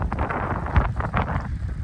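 Strong wind in a New Jersey snowstorm roars and buffets the microphone in loud, uneven gusts, with no voices over the rumble.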